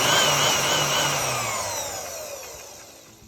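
The motor of an opened KitchenAid Artisan stand mixer spins down, a close, whining power-tool tone that falls steadily in pitch and fades out over a few seconds.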